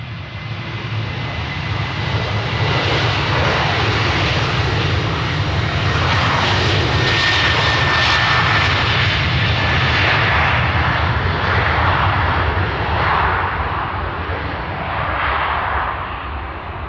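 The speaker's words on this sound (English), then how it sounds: "We have a Jet 2 plane on its way, hopefully somewhere nice and warm." A Jet2 passenger jet at Glasgow Airport gives a loud, sustained engine roar that holds steady and fills the scene at close range, with no voices over it.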